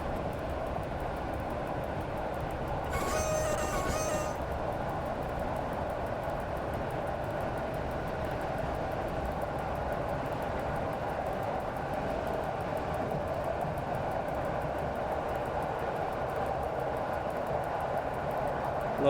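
Train wheels rolling on rails in the SimRail simulator, a steady droning rumble lasting the whole span with one short bright squeal near the start, loud and close, no talk.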